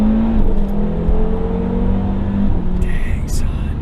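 Turbocharged 2.5-liter five-cylinder Audi RS3 under hard acceleration, a loud continuous engine drone from inside the cabin that holds pitch and then drops off near the end, with faint voices mixed in.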